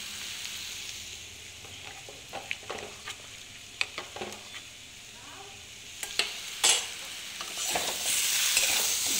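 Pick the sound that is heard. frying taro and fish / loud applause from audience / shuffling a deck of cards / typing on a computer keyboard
frying taro and fish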